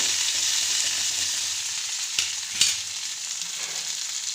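Onions, green chillies and garlic frying in oil for a raw tomato chutney, a steady bright sizzle throughout with a couple of sharp clinks or stirs near the middle, no voices.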